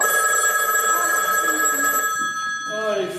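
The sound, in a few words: telephone bell ringing on stage in a theatre play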